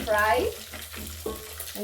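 Beef frying in a pan for a pilau gives a close sizzle, with a voice speaking briefly at the start and stirring noises breaking in through the rest.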